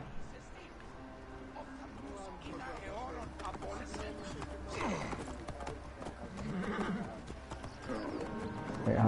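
Horse hooves clip-clop and a horse whinnies in Assassin's Creed Origins, the galloping game sounds running under a player's voice and occasional music, fairly quiet overall.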